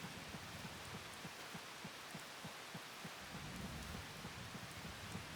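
Steady rain hiss from a video game, a continuous wash of falling rain with faint low rumbles, at a constant moderate level with no talk.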